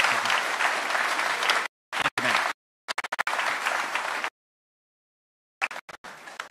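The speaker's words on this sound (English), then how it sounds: "Give this man a round of applause." A town hall audience applauds a combat veteran of Iraq and Afghanistan with loud, dense clapping that is broken by abrupt cuts and gaps of silence.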